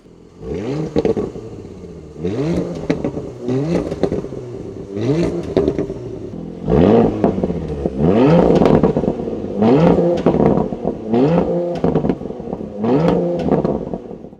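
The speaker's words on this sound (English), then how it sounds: "Today, I'm driving the 2023 Porsche Macan GTS for Porsche. Listen to that engine." A 2023 Porsche Macan GTS engine revs repeatedly in sharp bursts, each climbing in pitch and dropping back, with crackles between them, loud and close at a drag race.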